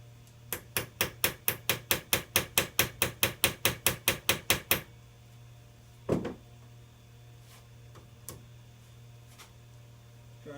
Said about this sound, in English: and a hammer, and give it a couple of love taps.